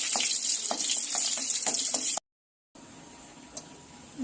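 Dried red chillies frying in hot oil, a close hissing sizzle with scattered small pops and crackles, broken by a brief silent gap before a quieter stretch of sizzling resumes; no talking.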